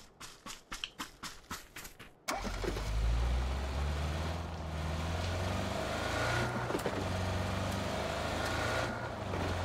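A few rapid mechanical clicks, then a car engine in PUBG catches and settles into a low, steady rumble that continues to the end.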